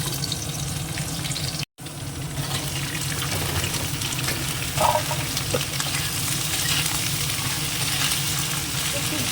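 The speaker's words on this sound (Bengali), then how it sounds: "ফুলকপি আলুটা কাটা হয়ে গেছে ভাজাটা বসিয়ে দেবো" Cauliflower and potato sizzle in hot oil, a steady crackling hiss throughout, with a soft background murmur.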